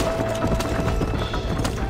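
Horse hooves clip-clop steadily along a road in the Red Dead Redemption video game, a continuous close rhythm of hoofbeats over a rumbling game soundscape.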